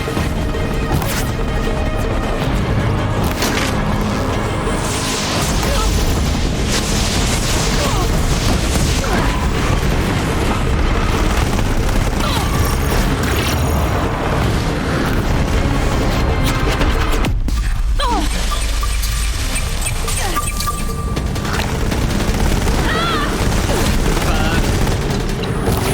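Cannons being destroyed in Horizon Zero Dawn: dense, continuous battle noise of heavy booms, crashes and rapid blasts, loud throughout with a brief drop-off late before the din resumes, voices faintly mixed in.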